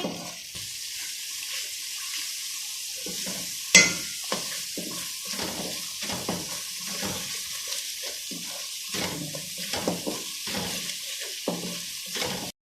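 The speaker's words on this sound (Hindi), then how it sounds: "मसालों को हम अच्छे से भून लेंगे" Ground spices and chicken powder are stir-fried in a pan for kaddu kofta gravy, with a soft sizzle under repeated scraping stirs that come in a fairly regular rhythm, one sharper knock standing out early on; no one speaks.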